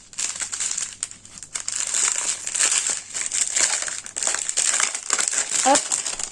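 Plastic wrapping on an AliExpress parcel crinkles and rustles close up as it is torn open, in a steady stream of crackling bursts with short pauses.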